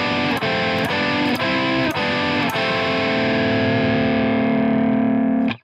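A distorted electric guitar plays a folk metal riff in harmonised thirds, four quick picked notes leading into a long sustained chord that rings out loudly before cutting off.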